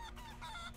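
Brief, soft clucking of a chicken from a chicken dash move in the video game Guacamelee! 2, a quick burst of warbling fowl sounds, faint and close.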